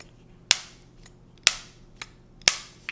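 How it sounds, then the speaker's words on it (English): An AirPods Pro charging case lid snaps shut three times at even one-second intervals, each a sharp, close click, with a fainter click between the last two. "But listen to this lid"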